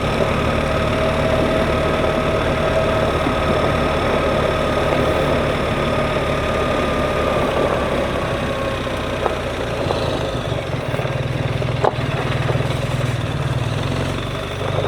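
A BMW R1300 GSA motorcycle engine runs steadily in second gear while riding, a loud, even low drone holding constant for the whole stretch, with no talk over it.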